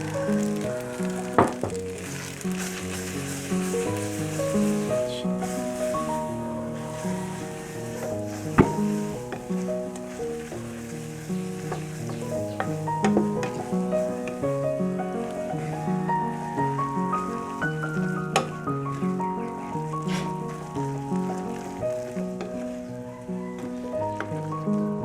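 Shrimp goes into a hot pan for Tom Yum pasta and sizzles steadily up close, a bright continuous frying hiss under light background music, with occasional clicks and knocks of utensils.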